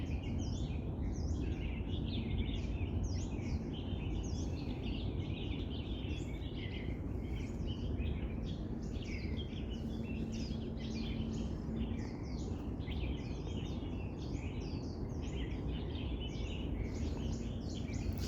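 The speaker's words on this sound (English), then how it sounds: "The sounds of birds in the trees." Many birds chirp and twitter continuously in trees on Victoria Peak, Hong Kong, overlapping calls over a steady low rumble, fairly distant.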